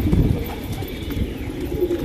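Pigeons belonging to an ustad, colourful Sherazi birds, fly and coo in steady low murmuring calls with faint wing flutter, close and continuous, no voices.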